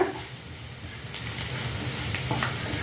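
Mixed green leaves fry in a pan with a steady soft sizzle, punctuated by a few stirring scrapes and brief crackling bursts, close and moderately quiet.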